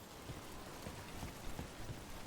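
Steady rain falls in a video game scene, a dense wash of drops with occasional heavier patters, with no voices.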